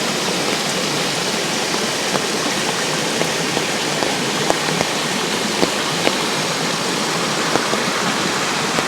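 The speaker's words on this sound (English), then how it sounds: "Just the sound of the rain, and maybe any birds that I might hear." Steady rain falls during a rainy-season summer hike at Gwangdoksan in Asan, South Korea, a dense continuous hiss with scattered close drips and taps standing out throughout, with no voices.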